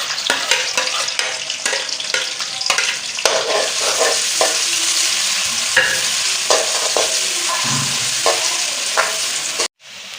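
Onion added to hot oil in a pan for a tinda sabzi, crackling and sizzling loudly and evenly with intermittent scrapes of stirring, then cutting off abruptly near the end.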